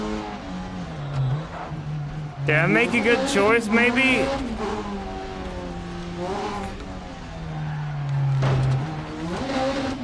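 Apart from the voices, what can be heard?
rally car driving in video game Dirt Rally 2.0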